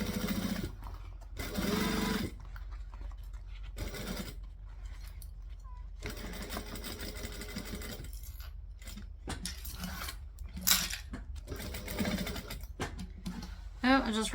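A sewing machine stitching a coffin-shaped handbag, running in bursts of rapid mechanical whirring separated by pauses and clicks, close by, with a person talking between the runs.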